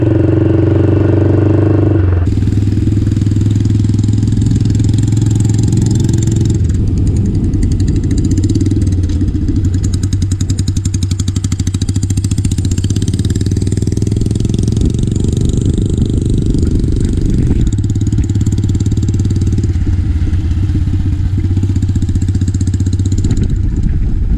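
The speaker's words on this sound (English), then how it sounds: "the feeling of riding this gorgeous motorcycle" A customised Royal Enfield Bobber motorcycle engine runs loudly throughout, a steady mid-pitched drone with rough clatter and shifts in revving as it rides along.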